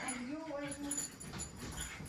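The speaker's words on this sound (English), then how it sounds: "And we have Arya going crazy with our host dog," Dogs playing excitedly indoors in a rented apartment in Split, Croatia, with close, high whimpers and yips while people talk over them.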